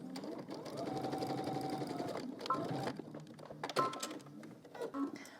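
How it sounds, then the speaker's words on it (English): A sewing machine stitches a skirt seam, its rapid mechanical hum running steadily and close, with a couple of brief slowdowns and restarts. "now you're gonna stitch up until you get to your existing stitching at the 5/8"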